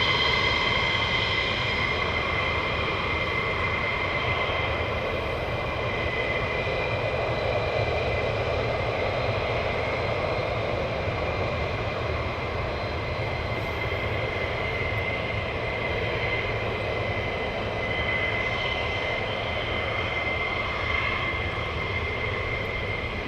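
An aircraft takes off from runway 24 at RAF Lakenheath, a steady broad engine roar heard from a distance that holds evenly for over twenty seconds with no voices over it.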